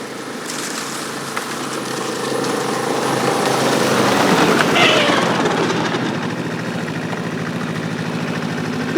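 A snowmobile engine runs steadily throughout, rising in loudness toward the middle as it draws nearer, then holding a broad, droning roar.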